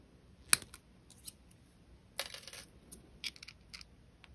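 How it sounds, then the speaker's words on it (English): Small cutters snipping thin jewelry wire for a wire-wrapped prong pendant setting: a few sharp, quiet metallic clicks scattered through an otherwise near-silent stretch. "snip them in the back so you can just tuck them in"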